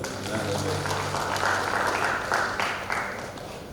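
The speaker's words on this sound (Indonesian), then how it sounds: "tepuk tangan dulu dong" Guests applauding at a wedding ceremony, a dense, continuous wash of clapping at moderate loudness with a crowd murmur and voices mixed in underneath.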